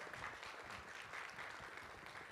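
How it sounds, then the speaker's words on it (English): A quiet, steady round of clapping from a small gathered audience at a demonstration, evenly sustained and somewhat distant throughout. "give her a round of applause, everybody."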